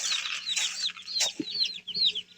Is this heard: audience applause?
no